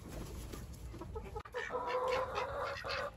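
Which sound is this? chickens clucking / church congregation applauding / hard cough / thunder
chickens clucking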